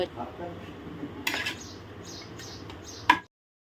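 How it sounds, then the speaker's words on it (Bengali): Mutton curry with potatoes stirred in a pan with a spatula, giving soft scraping and light clinks at a steady, close pace, ending on one sharp metallic tap. "এবার আমি আবার একটু খুন্তি দিয়ে ভালো করে নেড়ে চেড়ে নেব"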